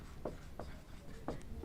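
A pen scratches out notes in a few quick, faint strokes, close by and otherwise quiet.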